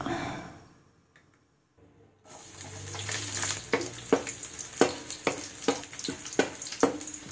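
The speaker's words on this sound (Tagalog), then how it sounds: "So, iprito ko muna itong bawang." Garlic fries in oil in a pan after a short near-silent pause; the bubbling sizzle comes up close, punctuated by regular sharp scraping clicks of stirring.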